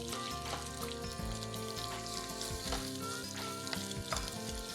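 Three medium onions, slit lengthwise, fry in a pan for a village-style fish curry. A steady, continuous sizzle runs alone throughout, with tonal background music underneath.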